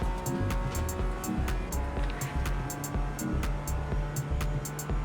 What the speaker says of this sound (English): God, those BMWs are so fast.